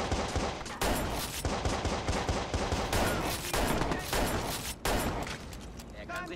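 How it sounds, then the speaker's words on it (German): Heavy gunfire fills a Watch Dogs shootout, with dense rapid volleys of automatic shots cracking almost without pause, loud and close, while voices talk over the barrage. "Auf mich wird gerade geschossen!"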